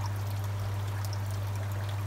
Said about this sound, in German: Ich habe jetzt hier einfach einen Sprudel, ein Ausströmer gemacht.